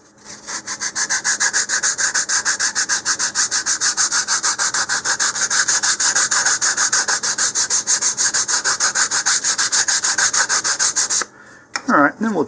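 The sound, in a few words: hand sanding the wooden edge of a model rocket part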